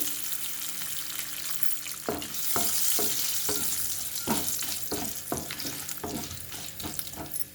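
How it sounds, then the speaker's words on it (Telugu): Cashews fry in hot oil in a pan, giving a steady bright sizzle broken by regular scraping stirs roughly every half second, close and fairly loud, with no talk. "జీడిపప్పు వేస్తున్నాను."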